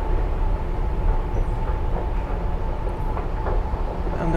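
A metro train runs at Kurtköy station in Istanbul, a loud continuous rumble with faint rhythmic clacking of the wheels throughout, close and steady with no talk.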